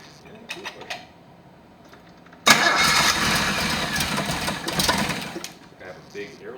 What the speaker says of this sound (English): let's go ahead and start it and watch the turbine spool up